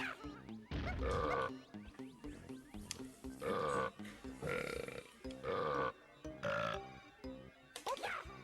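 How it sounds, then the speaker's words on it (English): Donkey Kong 64's burping choir belts out a rapid, rhythmic run of loud, gurgling burps, pitched like a song and close up, each burst separated by brief pauses. "it's time for the burping choir."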